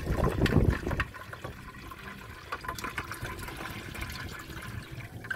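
Water pours loudly over a frozen nettle cube in a container, a heavy gush for about a second that settles into a steady trickling, bubbling flow.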